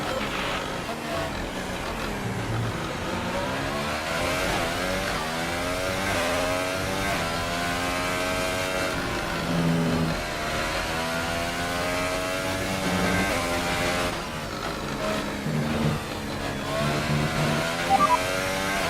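A Formula 1 race car engine screams at speed during the Grand Prix of America, a loud, steady high-pitched tone that rises and falls slightly as it shifts, heard continuously with no pauses.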